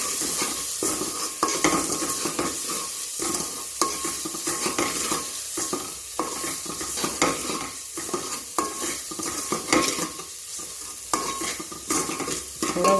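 A pan of tomato rasam ingredients is sautéed with salt and stirred continuously: a busy, close sizzle broken by frequent scraping strokes and light clinks of a spoon against metal, with no voices.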